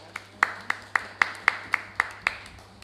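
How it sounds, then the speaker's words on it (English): Sparse clapping at a ministry debate: roughly eight sharp, evenly spaced hand claps from one or a few people, fairly close and isolated against a quiet room hum rather than a full crowd. "A round of applause,"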